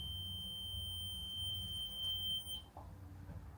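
Steady high-pitched electronic beeping, like a smoke alarm chirp, sounds inside an old grist mill at night, holding as a continuous tone for about two and a half seconds before cutting off, leaving quiet room noise.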